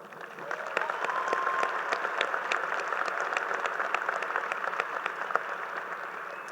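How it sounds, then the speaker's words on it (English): A graduation commencement audience claps together in a broad, sustained round of applause filling a large hall, steady throughout with no voice on top. "Please give yourselves a round of applause."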